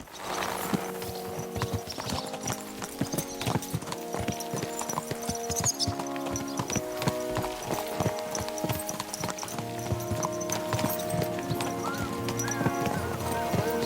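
Horse in Kingdom Come: Deliverance 2, steady clip-clop of hooves close by with a whinny, under game music and ambient hum, no speech over it.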